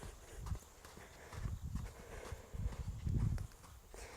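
A horse walks during groundwork training, its hooves landing in soft, dull thuds that fall in uneven groups over faint outdoor rustling. The steps are fairly close and quiet, and there is no talking.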